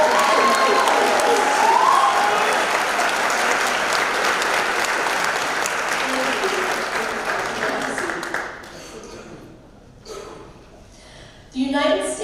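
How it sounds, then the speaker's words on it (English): An audience at a senior awards ceremony applauds presidential award winners, dense sustained clapping that fades out after about eight seconds, followed by a few brief scattered claps. "we really would love another round of applause for our presidential"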